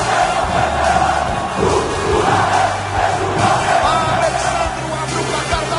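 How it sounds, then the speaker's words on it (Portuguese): A packed football stadium crowd of Vasco fans roars after a goal in the 2011 Copa do Brasil, a dense, loud, sustained wall of cheering and shouting with no break. "O estádio explodiu."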